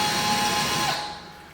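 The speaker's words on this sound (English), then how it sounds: "all I'm doing is making an indention in there with this bigger drill bit" A drill with a bigger bit makes an indentation in a pocket door for lock hardware, a short close whirring burst that fades out after about a second.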